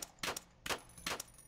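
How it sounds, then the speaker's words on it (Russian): Three distant gunshots ring out in a video game, evenly spaced, each a sharp broadband crack with a short tail, faint and far off with no one talking. "я слышал сейчас где-то выстрел в другой стороне"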